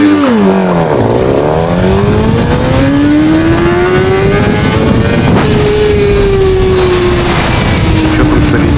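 Suzuki GSX-R 1000R sportbike doing a launch control start: steady loud engine drone whose pitch dips, then climbs through a long rising pull and eases off near the end, continuous and close.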